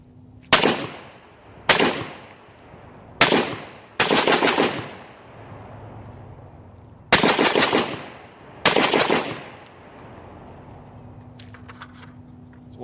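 Daniel Defense DDM4 V11 Pro rifle fired outdoors: six loud, sharp shots at irregular intervals, the last two close together, each with a ringing echo tail, and no talking.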